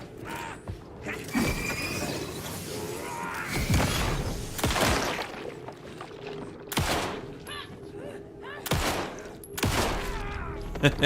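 Rapid bursts of pistol fire in Alan Wake 2, sharp loud cracks in quick clusters with shell-like metallic clatter, spread across the stretch with brief gaps between volleys.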